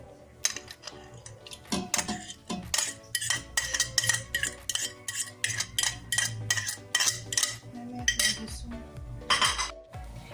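Ube maja blanca ingredients being mixed in a metal pot, with rapid, repeated clinks and scrapes of a utensil against the pot in a busy, uneven rhythm, close and prominent.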